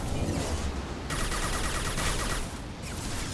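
Rapid bursts of gunfire from a squad firefight in Mass Effect Legendary Edition, dense and continuous for a few seconds with sharper high crackle in the middle, loud and close, no talking over it.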